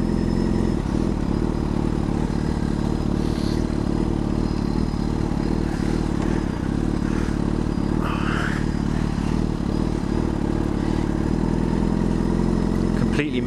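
A motorcycle engine revving inside a tunnel, loud and constant with a heavy reverberating roar, while the rider's voice occasionally comes through over the engine.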